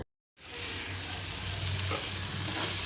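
Green peas and onion being dry-fried in a pan for a pea fry, a loud continuous sizzle starting abruptly after a brief silence and holding steady, no voices.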